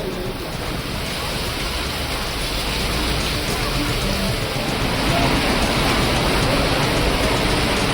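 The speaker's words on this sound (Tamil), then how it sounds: "திடீரென கருமேகங்கள் சூழ்ந்து இடியுடன் கூடிய மழை பெய்தது" Heavy rain from a sudden thunderstorm in the Ariyalur and Jayankondam area of Tamil Nadu, a steady dense hiss of falling water holding constant throughout with no voices.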